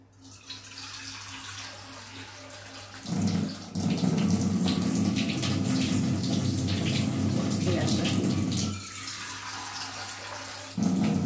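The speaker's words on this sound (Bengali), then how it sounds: "আমি এই জল এখানে দিয়ে দিচ্ছি" Water pours from a container into a bowl of rice for pressure-cooking veg fried rice, a steady splashing stream of several seconds, up close, between quieter stretches of background hum.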